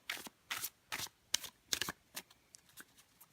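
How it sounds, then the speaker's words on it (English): Ukiyoe tarot cards, a broken-in, well-used deck, riffle and shuffle in quick crisp bursts, close and alone with no talking. "Love that sound of the shuffle."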